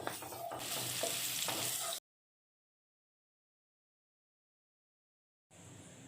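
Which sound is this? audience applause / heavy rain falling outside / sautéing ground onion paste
sautéing ground onion paste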